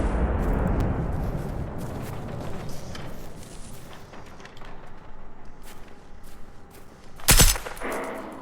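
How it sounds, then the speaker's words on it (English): Hip-fired gunfire in the video game Generation Zero: dense, rapid shots that are heaviest at the start and thin into scattered pops, with one loud, sharp blast near the end, close and with no talk. "I shoot from the hip a lot."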